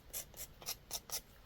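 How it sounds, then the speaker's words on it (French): A small blade scraped repeatedly over the freshly cut end of a small paper fan craft, making about six short, quiet scratchy strokes in a steady rhythm. "je vais simplement passer un petit peu une petite lame sur le bout que l'on vient de couper"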